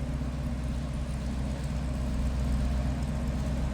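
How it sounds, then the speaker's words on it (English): A 1949 Buick Super convertible's inline eight engine idles steadily, a low, smooth and fairly quiet rumble heard from behind the car with no other sounds. "That inline 8 is pretty quiet."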